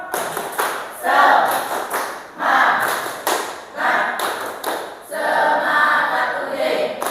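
A classroom group claps in a rhythmic spirit chant, loud sharp claps in repeated patterned bursts with thumping accents and voices chanting between them.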